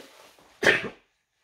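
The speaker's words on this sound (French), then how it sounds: "Je suis désolée, je vais éternuer." After a faint breathy lead-in, one sudden, forceful sneeze bursts out close by, then silence.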